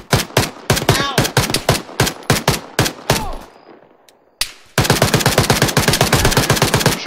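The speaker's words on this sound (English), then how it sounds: "I'm being shot at!" Rapid bursts of loud video game gunfire in a Russian-themed shooter, sharp repeated shots in quick rhythm, a brief lull, then a sustained dense volley of automatic fire close by.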